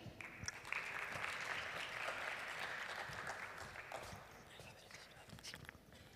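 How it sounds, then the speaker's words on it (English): Audience applause greets a startup presenter at a pitch competition, a sustained wash of distant clapping that swells and then fades over several seconds in a large hall. "A big applause for him."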